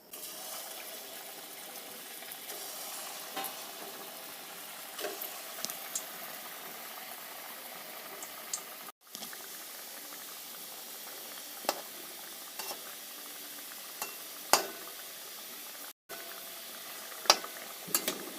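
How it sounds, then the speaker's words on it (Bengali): Coiled jilepi pitha dough rings fry in hot oil with a steady bubbling hiss, punctuated by scattered clicks and light utensil taps, two abrupt momentary dropouts, no voices. "এখন তেল গরম হয়ে গেছে, আমি এগুলো সব ভেজে নেব এক এক করে"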